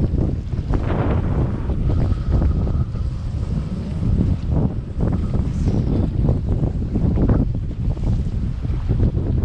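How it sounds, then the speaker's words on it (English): Strong wind buffets a small fishing boat on open water, roaring across the microphone in heavy gusts while waves slap and rush against the hull, loud and continuous with no talking. "I really got to think that this wind is going to let up like it's supposed to."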